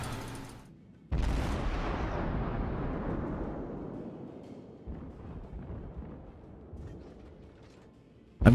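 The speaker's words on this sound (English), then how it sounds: "Fire all his shells." The cruiser Cleveland fires a heavy salvo of shells in the naval video game World of Warships: a sudden loud boom with a long rumbling decay, then fainter distant reports and a sharp burst at the end.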